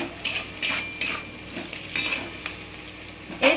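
A spoon scrapes and clatters around a frying pan as paneer chilli with salt and ground pepper is stirred, giving repeated close metallic strokes over a soft sizzle.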